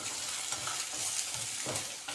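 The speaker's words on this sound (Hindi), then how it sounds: "इसको भी हम 2 से 3 मिनट के लिए फ्राई करेंगे।" Carrots and other chopped vegetables fry in a pan for an omelette, producing a steady, close sizzle with soft stirring scrapes and no voices.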